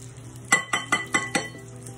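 Pancake batter stirred in a bowl, five quick, evenly spaced clinks of a utensil against the side, close and clear with no talking.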